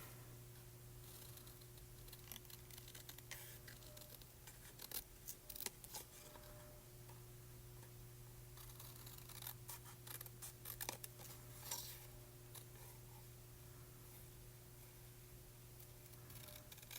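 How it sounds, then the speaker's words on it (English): Scissors fussy cutting card stock for card making, with repeated close, quiet snips and paper rustles over a faint steady hum. "I'm going to fussy cut this one a little bit."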